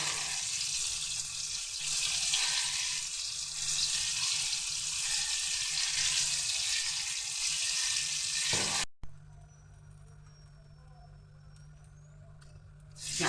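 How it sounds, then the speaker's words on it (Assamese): Potato frying in a pan gives a loud, steady close sizzle for most of the stretch, then cuts to a quieter background with faint clinks; speech is also heard in the clip. "আলুটো ভাজি দিয়া।"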